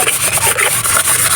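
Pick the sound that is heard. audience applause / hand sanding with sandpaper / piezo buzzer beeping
hand sanding with sandpaper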